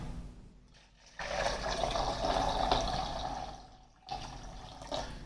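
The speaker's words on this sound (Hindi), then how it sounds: "ये 3 गिलास के करीब मैंने पानी शामिल कर दिया" About three glasses of water poured into a juicer jug for a pomegranate and beetroot juice, a steady splashing, gurgling fill lasting several seconds, then a shorter second pour, close by.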